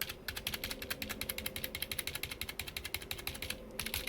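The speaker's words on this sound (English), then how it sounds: "And this is the membrane keyboard." A cheap membrane keyboard from AliExpress is typed on in a rapid, steady stream of soft, muffled taps, fairly quiet and close with no voices.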